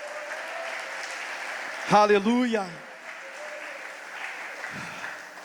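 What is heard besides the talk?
congregation applauding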